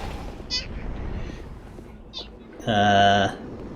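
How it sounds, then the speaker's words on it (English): A cat gives a loud, drawn-out meow near the end, after a couple of short chirpy sounds, with faint background noise. "Do you hear this cat?"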